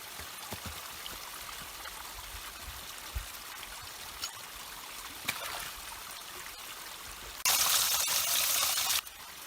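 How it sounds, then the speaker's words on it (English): A creek flows through a snowy winter forest, a faint steady trickle and burble of water with occasional small knocks and a brief louder burst of rushing noise near the end. "Now we're gonna go up to see is there still that beautiful creek that we found last time,"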